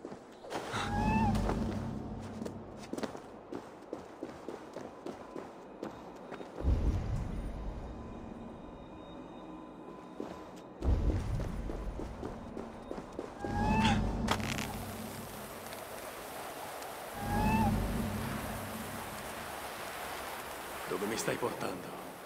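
A kitten in Assassin's Creed Valhalla gives several short, high meows spread across a busy game soundscape, with thuds, rumbling movement and ambient noise around them.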